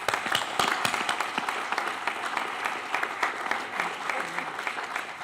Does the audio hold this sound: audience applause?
yes